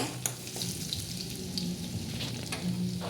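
Garlic paste frying in hot oil with mustard seeds, a dense, continuous sizzling hiss with faint crackles and pops, close and steady throughout.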